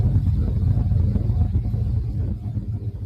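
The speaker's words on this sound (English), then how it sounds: "The low rumble sounds like a generator running in the distance." A constant low rumble, like a generator running somewhere off in the distance, with a steady droning hum and little variation.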